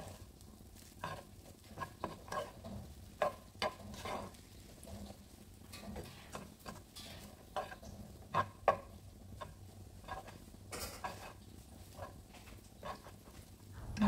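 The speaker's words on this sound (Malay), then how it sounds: "Kacau-kacau sehingga sebati." Spatula stirring fried rice with sambal belacan and mushroom seasoning in a pan, irregular scraping clacks and soft sizzling at a close, fairly quiet level, with no talk over it.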